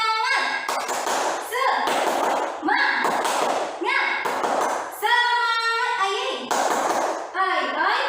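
A group chants a tepuk semangat rhythmic clapping routine during a lesson, with bursts of clapping and sharp thuds alternating with chanted voices in a steady repeating pattern.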